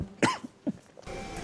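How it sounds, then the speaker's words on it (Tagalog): A sick person coughs in a couple of short, close bursts, with faint background noise and no talking. "Inuubo ako."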